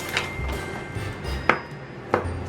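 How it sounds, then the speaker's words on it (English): A knife chops celery and onion on a board in a home kitchen, giving sharp, separate thuds at an irregular pace, two of them especially crisp, over a low, steady room hum. "Next, chop some celery and then chop some onion and set those aside too."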